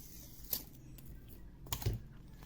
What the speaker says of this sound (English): you can feel the edge of the cardboard as you cut down